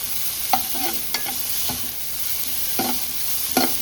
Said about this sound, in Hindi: यहाँ से प्याज को हल्का सा सोते कर लेते हैं।